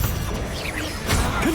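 Bombarda spell blast in the Hogwarts Legacy video game: a short burst with a swishing whoosh and a crashing impact, loud and close, with no talk.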